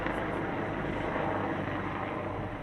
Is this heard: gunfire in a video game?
no